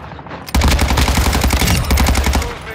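An enemy sentry gun in Call of Duty: Modern Warfare II fires a loud, rapid automatic burst lasting about two seconds, close and sharp, then cuts off.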